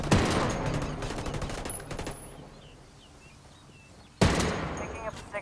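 Gunfire in the Ghost Recon Wildlands multiplayer game, a burst of rapid shots up front, a quieter stretch, then another loud burst near the end, with speech mixed in.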